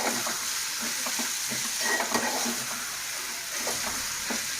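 Broad bean and fenugreek leaf curry stirred in a hot pan, a steady close sizzle of frying with soft scrapes and clicks of the spoon recurring throughout.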